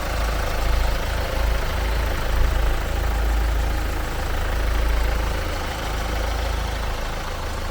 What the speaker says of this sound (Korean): 엔진 소리도 좋고 깨끗하네요.